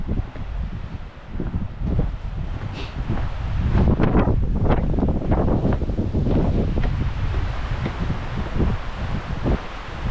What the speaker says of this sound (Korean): 바람이 꽤 많이 불어오고 있습니다